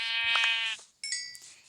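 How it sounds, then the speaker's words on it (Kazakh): Sheep bleating in a video game, two drawn-out harmonic bleats close together, the first longer and louder, with a brief pause between them and no talk. "Так, қойларды өлтіріп алайық."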